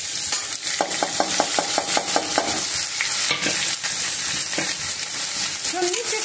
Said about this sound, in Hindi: छोलनी से प्याज को चलाएंगे, प्याज जब तक गोल्डन कलर नहीं हो जाता है तब तक हमें चलाते रहना है।